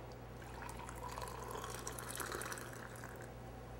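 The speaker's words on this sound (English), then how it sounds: "So this particular French press pours extremely well, as you can see." Tea pouring from the spout of a French press: a steady, soft liquid stream runs continuously for several seconds against a low background hum, with no talking.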